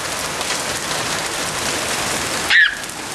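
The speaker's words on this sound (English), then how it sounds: "it's raining off the side of his house" Heavy rain pours steadily during a hail storm, a dense, close hiss falling off the side of a house, with a brief louder splash near the end.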